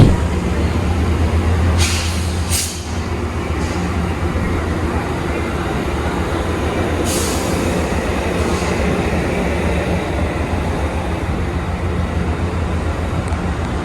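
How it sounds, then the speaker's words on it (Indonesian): A Metrolink commuter train rumbles steadily past nearby at Union Station, a continuous heavy roll with a couple of brief hissing bursts. "Nah, ini ada kereta api Metrolink."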